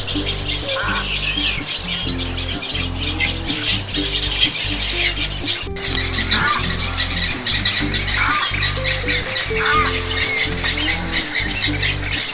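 A nesting colony of cattle egrets and other birds in trees at Forest Lake squawks continuously and loudly, with dense overlapping harsh calls throughout.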